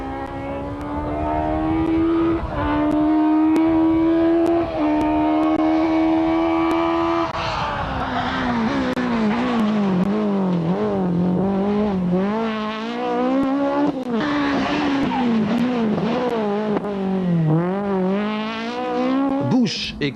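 Citroën rally cars dueling in the Formula 2 two-wheel-drive class, their engines roaring loud and close: a steady high whine at first, then a rapid series of rising and falling revs through gear changes, with bursts of tyre noise.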